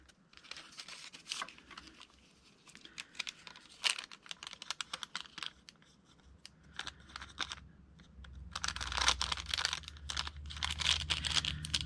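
Glassine paper crinkles and rustles while nature journal signatures are being decorated, with dense bursts of crackling that build to louder sustained crumpling near the end.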